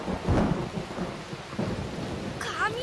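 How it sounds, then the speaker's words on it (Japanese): Thunder rumbles in the Rockman.exe video game, a low broadband roll with rain-like hiss, peaking early then sustaining, followed by a brief chirpy game sound effect near the end. "雷マジかよ。"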